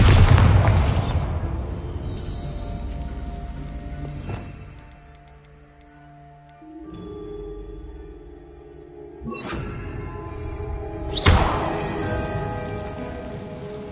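Bombarda spell blasts in the video game Hogwarts Legacy go off as several heavy booming explosions, a big one at the start and more bursts later, each followed by a rumbling, crackling decay with no talking.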